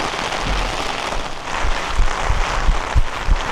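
Heavy rain pours steadily at a village railway station in Japan, a loud, dense hiss of falling water with occasional heavier thuds of drops hitting nearby surfaces.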